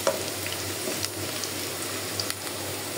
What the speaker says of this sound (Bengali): আমার পেঁয়াজটা প্রায় হয়ে গেছে